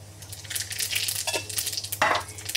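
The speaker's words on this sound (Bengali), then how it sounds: "তেল থেকে ধোঁয়া বেরাচ্ছে, মতলব তেল গরম হয়ে গেছে। এখন জিরা দিই।" Cumin seeds hit smoking-hot oil in a wok, a short close burst of crackling sizzle with a few stirring scrapes over a low steady hum.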